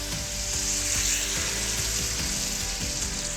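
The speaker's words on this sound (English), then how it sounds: "now everything is starting to sizzle and simmer" Moroccan chicken with spices and vegetable stock sizzles and simmers in a pan, a close, continuous crackle with small irregular pops and bubbling throughout.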